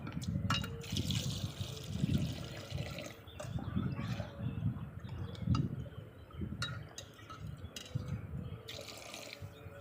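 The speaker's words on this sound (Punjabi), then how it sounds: "ਆ ਲਓ ਜੀ ਆਪਾਂ ਪਾਣੀ ਪਾ ਦਾਂਗੇ ਜੀ ਇਹਦੇ ਵਿੱਚ" Water poured into a vessel in a home kitchen during morning chores, heard as uneven gurgling bursts of liquid close by, with occasional light clinks in between.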